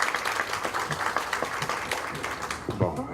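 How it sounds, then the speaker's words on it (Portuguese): An audience at a round-table academic seminar applauds, scattered hand claps forming a steady patter throughout, with a brief low voice near the end. "Uma salva de palmas para"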